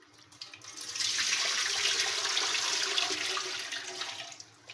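Water runs and splashes while cut potatoes for french fries are rinsed in a wok, a close rushing pour that swells after a second, holds steady and then tapers off, with no voices.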